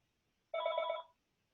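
A single short telephone ring, a bright warbling electronic trill lasting about half a second, heard close and clear against near silence.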